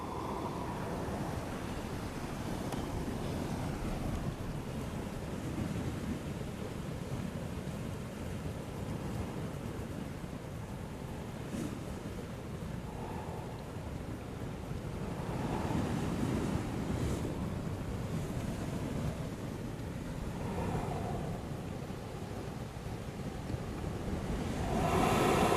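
Ocean waves surge against a coastal ledge at Savannah Ledge, with a blowhole pushing water through rock. A steady, rushing roar is roughened by wind buffeting the mic, swelling midway and again at the end, with no voices.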